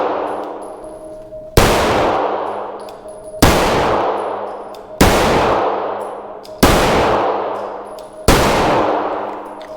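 Five pistol shots at a shooting range, loud and close, each a sharp crack with a ringing decay, spaced about two seconds apart, with no talking.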